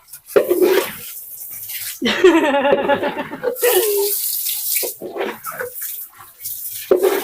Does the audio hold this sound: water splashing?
yes